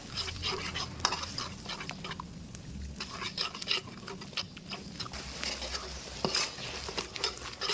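Fish curry paste stir-fried with oyster sauce, soy sauce and sugar in a pan for a Thai tilapia dish, with soft scraping stir strokes and light clinks of a utensil, steady and close, no talk.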